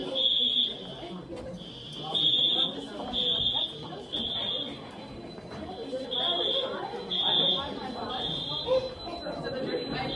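A high, insistent fire alarm beeps in repeated pulses during a high school fire drill while several people talk and chatter nearby.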